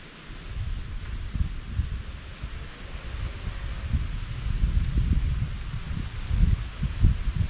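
Northeast wind blowing outdoors during a hunt, a steady close rush with rumbling gusts buffeting the microphone, swelling and easing throughout.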